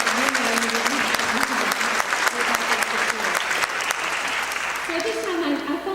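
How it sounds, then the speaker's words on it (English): An audience at a 2019 Texas A&M graduation ceremony applauds the graduates' families, dense clapping filling the hall throughout while a voice speaks over it. "just give them a round of applause"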